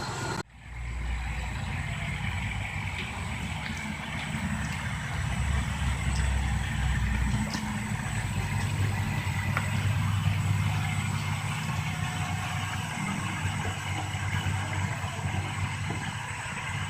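A car engine idles steadily with a low rumbling hum that runs close and unbroken throughout, with no talk over it.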